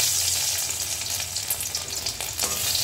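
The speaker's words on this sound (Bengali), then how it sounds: "রসুনটা একটু ভাজা ভাজা করতে হবে" Garlic sizzles steadily in hot oil in a kadai for a red amaranth and prawn stir-fry, a close, even hiss with faint stirring scrapes and no talking.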